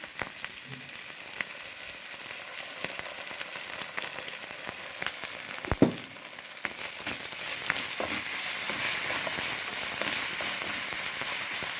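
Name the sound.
stir-frying kailan with garlic and oyster sauce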